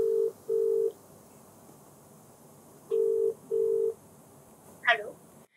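A telephone number is keyed in as four clear dialing tones in two pairs, then a brief higher chirp, all over a faint steady background hiss.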